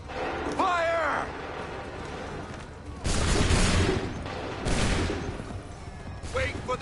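Musket volleys crack out in Assassin's Creed III, two loud ragged bursts of massed gunfire a couple of seconds apart, amid shouted commands and battlefield din.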